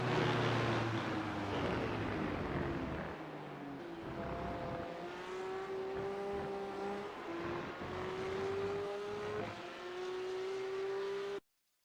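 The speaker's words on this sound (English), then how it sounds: "let's watch the 3 car and see what lines they take as they head into the first chicane" Race cars at Le Mans brake and downshift into the first chicane, a loud continuous engine howl with rising and falling tones as revs climb and drop, layered passes close by, then sudden silence at the end.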